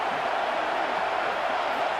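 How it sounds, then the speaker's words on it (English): Stadium crowd cheering in a college football video game, a steady, dense roar that holds evenly for the whole short stretch with no break. "Big 3rd down as the crowd gets behind this defense."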